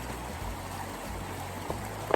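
Water squeezed from a collapsible filter bottle on a hiking trail trickles and dribbles softly, a quiet, close, uneven stream with faint gurgles and a small squeak near the end.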